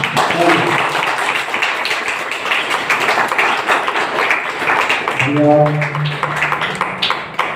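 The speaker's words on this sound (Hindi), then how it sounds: "मैं चाहूंगा कि एक बार फिर से जोरदार तालियां होनी चाहिए" Applause bursts from the audience at a wellness company's health awareness program in Ghazipur, a loud sustained clatter of hands with music tones rising over it near the end.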